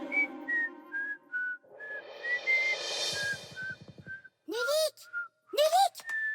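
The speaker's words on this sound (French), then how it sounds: "Je siffle un morceau." A person whistles a bouncy tune in short phrases, with a hissing swell in the middle and a few sliding, chirpy notes near the end.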